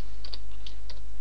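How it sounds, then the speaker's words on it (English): A password goes in on a computer keyboard as a short burst of quick, light keystrokes, about four or five close clicks. "Okay, we'll type in our password."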